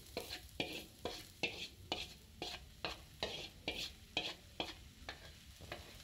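Kalai greens with a spice tempering are stirred in a pan, giving a quiet sizzle broken by regular scraping strokes, about two a second, with no voices.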